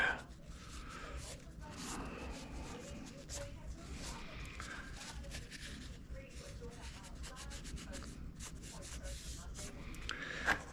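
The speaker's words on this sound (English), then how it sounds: "And we'll wipe it down again." Cloth rubbing steadily over an oiled Sig Sauer P365 pistol, a soft continuous swishing scrub up close that runs unbroken for several seconds.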